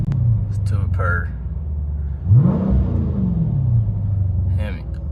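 A 2018 Dodge Challenger Shaker Edition with a 6.4L HEMI V8, dual exhaust and mid muffler, heard from inside the cabin as a steady deep rumble rises into one loud rev and settles back, with people talking and whooping over it.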